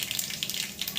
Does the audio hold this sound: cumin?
yes